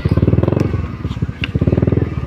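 A motorcycle engine close by, revving in choppy, pulsing bursts with a brief drop in the middle, as the bike pushes through mud.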